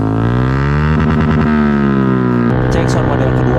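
A Honda Beat STD scooter fitted with a black-coated Samlong Amora full-system exhaust idles with a loud, steady buzzing drone, its pitch stepping up and down as the throttle is blipped.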